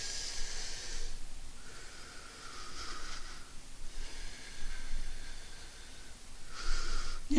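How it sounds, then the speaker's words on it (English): A man's slow, deep breaths, several long airy inhales and exhales in a calm rhythm, close and soft with a breathy hiss. "Take a deep breath."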